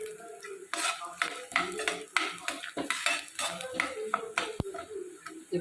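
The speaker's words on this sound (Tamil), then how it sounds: "இப்போ அரைச்சி வச்சுருக்க கருவேப்பிலையை போட்டு" Ground curry leaf paste goes into a pan with asafoetida and is stirred with a metal spoon, making a busy run of close scraping and clinking metal-on-pan strokes with a light sizzle underneath.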